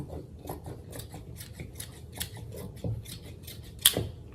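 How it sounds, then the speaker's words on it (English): Scissors snip through dress fabric to cut a slit along one side: a quiet, steady run of close crisp snips, ending with one sharper, louder cut. "we're just gonna cut one side open"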